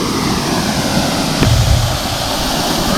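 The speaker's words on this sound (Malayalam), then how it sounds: "ഇതാണ് നമ്മുടെ കീഴാന്തൂർ വെള്ളച്ചാട്ടം, അല്ലെങ്കിൽ കച്ചാരം വെള്ളച്ചാട്ടം, കാന്തല്ലൂർ" Keezhanthoor Waterfall, also called Kacharam Waterfall, at Kanthalloor near Munnar, roars loud and close in a constant, unbroken rush of water, with a brief swell midway.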